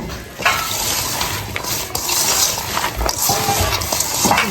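Raw rohu fish pieces being mixed by hand with salt, turmeric and chili powder, giving a steady close, wet squelching and stirring with faint scrapes against a bowl, no talk.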